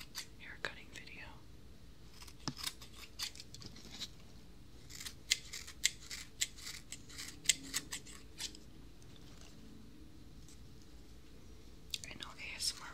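Scissors snip close beside a binaural dummy head microphone during a haircut, a run of crisp, uneven clicks and clips, quiet and intimate, with soft whispering underneath.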